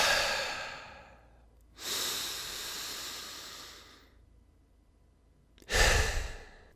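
Two deliberate, loud breaths from a person, each a drawn-out airy exhale or sniff through the nose, separated by a quiet gap, with a softer breath at the start; close to the microphone, no talking.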